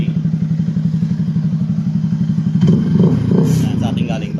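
A Yamaha Sniper 155 motorcycle fitted with an aftermarket exhaust pipe idles close by with a loud, rapid, rhythmic putter, then revs up briefly with a rougher, louder burst.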